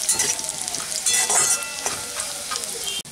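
Lentil bori and garlic fry in a little oil in a pan, giving a steady close sizzle with occasional stirring scrapes, brief and without talk.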